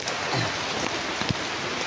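Heavy rain pours in a dense, continuous hiss, loud and close, with no voices over it.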